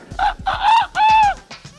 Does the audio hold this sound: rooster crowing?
yes